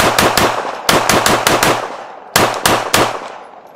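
Rifle gunfire from an X5 fitted with a Live Free Armory upper and no muzzle brake, fired at a 3-gun competition range: loud, close sharp shots in quick bursts, about three, then four, then three, with short gaps between.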